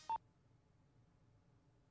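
A telephone keypad gives one short, clear dialing beep at the start, then near silence with only a faint low hum.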